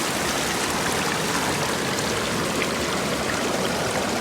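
Water rushes steadily through a gold prospecting sluice box running material over bedrock, a loud, continuous broadband wash with no breaks and no voices.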